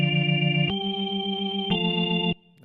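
A keyboard plays a short counterpoint example with voice overlap, three sustained chords in a row with a buzzy, organ-like tone, close and steady before cutting off.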